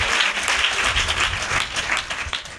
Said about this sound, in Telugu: చప్పట్లు కొట్టి దేవునికి స్తోత్రం చెప్ప.